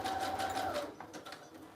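Sewing machine stitching around a stamped image on a fairy-themed fabric embellishment, a steady close motor whir with needle clatter that continues alone, easing slightly in the second half.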